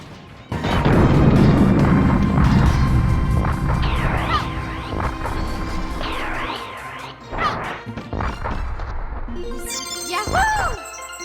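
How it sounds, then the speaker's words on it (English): A missile launcher blasts an enemy in the N64 game Mischief Makers: a loud crashing impact with a booming burst, followed by zigzagging synth effects, sharp hits and a rising chirpy jingle near the end. "I'm using a missile launcher that I picked up to destroy an enemy"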